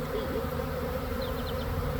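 A swarm of honeybees settling into a nucleus hive gives a steady, dense buzzing hum, close and continuous, with no voices.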